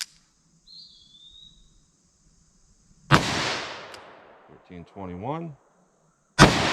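Revolver gunshots outdoors in a 10mm versus .44 Magnum comparison: two loud sharp shots several seconds apart, each with a decaying echo, and someone speaking briefly between them.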